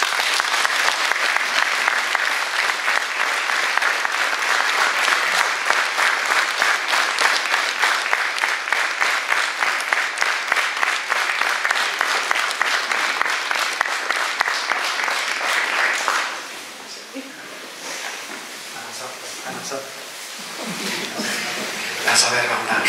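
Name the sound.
audience applause at a church nativity program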